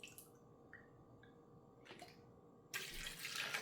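Half a cup of water poured into chia seeds in a home kitchen, a few soft drips and small splashes followed by a brief louder rush of pouring near the end.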